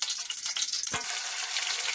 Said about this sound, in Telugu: తాలింపు వేసేసాను